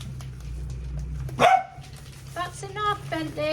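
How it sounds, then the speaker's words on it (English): A dog barks once, loud and close, in a home kitchen during a slow-cooker green tomato chutney demo, with a steady background hum and some faint voice sounds after. "Dogs, they always want to interrupt my video. If it's not barking"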